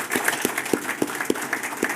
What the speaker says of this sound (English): A round of applause to them.